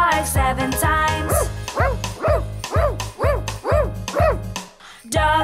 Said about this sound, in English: Dog barks 7 times.